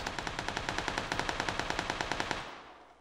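Rapid automatic gunfire from a shooter video game rattles in one loud, continuous burst for over two seconds before cutting off and fading away.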